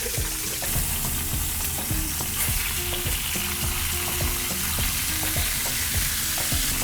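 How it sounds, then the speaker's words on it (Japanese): Fish pieces searing in hot oil in a pan for an acqua pazza, a loud continuous sizzle with crackling pops and occasional scraping, no voices. "この油でお魚焼きます。"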